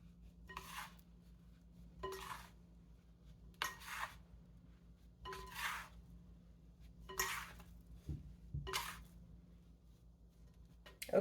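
No-knead everything bagel bread dough stirred in a bowl, six evenly spaced scraping, rubbing strokes against the bowl, quiet and close, with a faint steady hum underneath.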